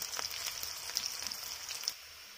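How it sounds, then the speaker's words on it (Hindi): Sliced onions frying in hot oil for an Indian aloo gobi matar sabji, a soft continuous sizzle with faint crackles and pops, fairly quiet with no voices. "हमें ये गोल्डन ब्राउन होने तक फ्राई करना है।"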